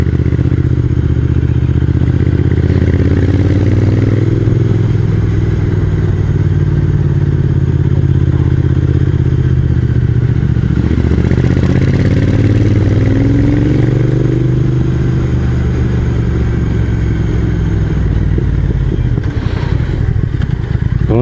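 Triumph Speed Twin motorcycle in first gear, climbing very tight hairpin bends toward the Plateau des Glières via Entremont; a close, steady engine drone whose revs rise and fall through the corners, with no talk.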